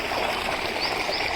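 Water gushes steadily from the 4-inch delivery pipe of a 20 HP solar-powered tubewell drawing from a well about 60-65 feet deep, a loud, continuous rushing flow heard close with no voices.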